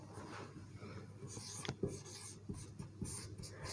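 Marker or chalk writing on a board during a physics lesson, heard as faint scratchy strokes and short taps in an irregular rhythm, close and quiet, with no talk over it.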